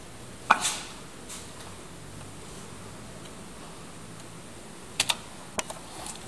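Keypad on a CNC milling machine control panel: a few isolated sharp key clicks near the start, then a quick cluster of three or four presses toward the end, close and crisp over quiet workshop hum.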